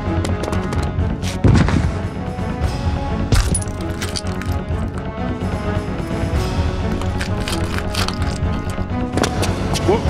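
Rapid gunfire bursts in Resident Evil 2, sharp repeated shots cracking over tense game music and a continuous loud din, with sparse voices.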